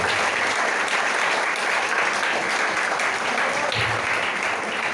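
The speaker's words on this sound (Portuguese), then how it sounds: "Você pode aplaudir bem forte ao nome do Senhor" Loud, steady applause from a church congregation fills the space for the full stretch, dense clapping without a break and no clear voices on top.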